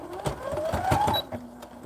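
A sewing machine back stitches fabric in a short, close burst of rapid needle strokes with a whirring motor, stopping briefly before running again.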